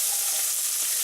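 Chopped steak seasoned with ground cumin and coriander fries in a pan, making a brief, dense, close sizzle that stays loud and steady.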